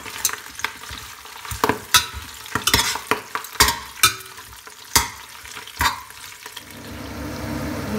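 Kohlrabi greens sauté in a hot pan with a steady sizzle, while a utensil scrapes and clacks against it in a run of sharp, irregular strikes. No one speaks.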